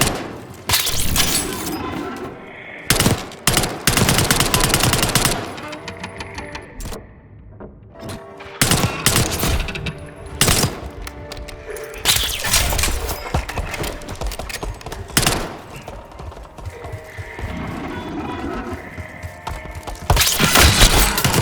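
Bursts of gunfire in a Call of Duty Black Ops 6 campaign mission, loud sharp volleys and impacts coming in clusters with quieter gaps, over a busy layer of game sound.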